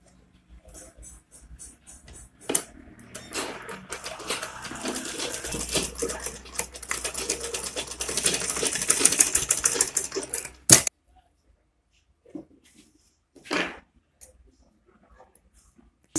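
Sewing machine stitching Ankara fabric for a flat cap, a rapid steady mechanical rattle running for several seconds, then stopping with a few short bursts after.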